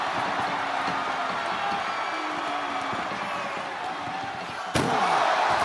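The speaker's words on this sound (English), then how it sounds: "Trying to at least slam one door shut." A single sharp ambulance door slam in the WWE 2K25 wrestling game lands near the end, loud and abrupt over a steady bed of arena crowd noise.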